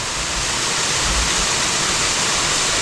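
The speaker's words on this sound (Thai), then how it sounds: "จุดนี้นะครับจะเป็นจุดด้านบนของน้ำตกนะครับ" Steady, loud rush of a forest waterfall heard from the top of the falls, a constant broadband roar of falling water with no voices, continuous throughout.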